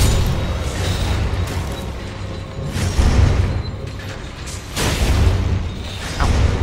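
In Elden Ring's Black Knife Catacombs, repeated shooting attacks land as loud, rough bursts and booms that recur every second or two over a constant noisy wash.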